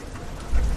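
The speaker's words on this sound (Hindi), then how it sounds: "लगातार बारिश हो रही है" Steady rain pours down in a monsoon downpour on a muddy rural road, a continuous broadband hiss with a deeper low rumble swelling near the end, no voices present.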